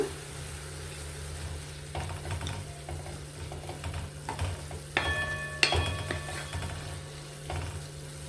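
Thotakura (amaranth leaves) frying in a pan with a little turmeric, giving a steady soft sizzle with intermittent stirring scrapes and clinks over a constant low hum, no talk.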